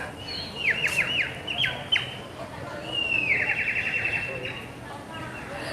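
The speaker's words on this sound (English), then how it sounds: "He does sell these little like bird-like whistles" Bright, trilling bird-like whistles from a street vendor's novelty whistle in quick warbling bursts, repeated a few times over soft outdoor background chatter at a Mallorca resort.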